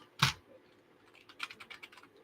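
Faint clicks of keys typed on a computer keyboard: one sharper tap, then a quick uneven run of soft key presses, close and quiet.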